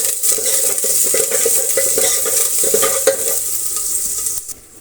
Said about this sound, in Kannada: ಈರುಳ್ಳಿ ಮತ್ತು ಕರಿಬೇವಿನ ಸೊಪ್ಪನ್ನು ಸೇರಿಸ್ತಾ ಇದ್ದೀನಿ. ಅಷ್ಟನ್ನು ಫ್ರೈ ಆಗಲಿ.